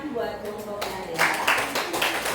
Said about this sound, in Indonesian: kita berikan tepuk tangan buat kelompoknya ya